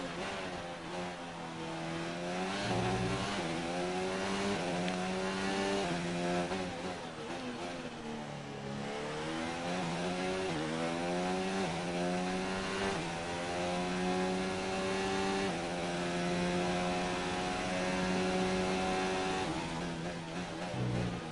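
Formula 1 car from F1 2019 racing through the final lap at Azerbaijan, its engine screaming loud and continuous with rising and falling pitch sweeps through gear changes, no voices over it.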